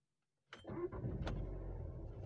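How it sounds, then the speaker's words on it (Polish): A 2014 VW Golf VII with 231,000 km on it starts up after a half-second of silence: a quick starter crank catches into a steady idle, close and moderately loud, with no talk. "odpalamy Golfa"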